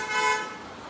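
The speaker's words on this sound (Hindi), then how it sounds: "देखिए अभी ये हॉर्न बजा रहा है" A single car horn toots briefly and fairly loud outdoors, a steady tonal honk fading slightly at the end.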